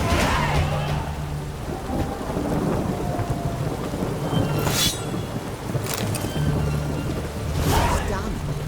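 Steady rain and rumbling thunder in the video game The Witcher 3, with a continuous wash of rainfall, low rolling thunder, and a few sharper crackles spaced through the storm, loud and close throughout.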